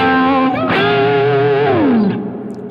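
Electric guitar solo line played with heavy distortion, from the lead part of a worship song arrangement, sustained bent notes sliding downward near the end, loud and close with no talking.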